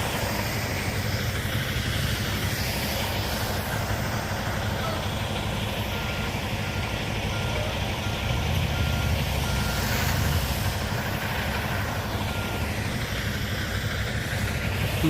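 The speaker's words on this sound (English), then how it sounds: "We got two trucks coming." Two trucks approach amid a steady, loud rumbling engine drone, with reversing beeps faintly present throughout the continuous noise.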